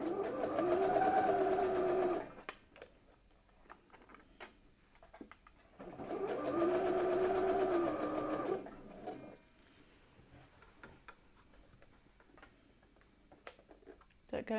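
A sewing machine stitching in two loud, steady bursts of about two to three seconds each, close up, separated by quieter stretches with light clicks and handling noise.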